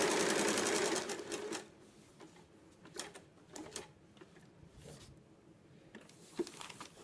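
A home sewing machine stitches along a marked line on fabric, starting with a loud, close, rapid burst of running stitches for about a second and a half. Quieter mechanical ticks and fabric handling follow.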